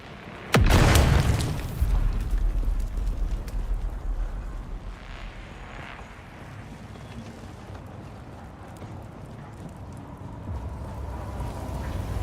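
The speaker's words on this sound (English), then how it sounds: "Oh, grenade." A grenade detonates in a Dune: Awakening firefight, one sudden loud close blast that decays into a long rumbling tail and settles into quieter ambient noise.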